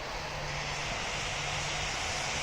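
A Boeing 737 jet engine at Greater Rockford airport, runway 25L, makes a steady broadband roar with a low hum beneath it, continuous and fairly distant throughout.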